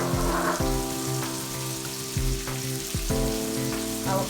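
Carrots sizzle in a little hot frying oil, a steady crackling hiss with irregular bursts and stirring knocks, up close with no voices.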